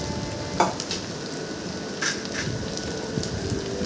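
Elephant foot yam pieces coated in masala frying over a high flame, a dense close sizzle with occasional sharp clinks and scrapes of a stirring spoon against the pan, no voices.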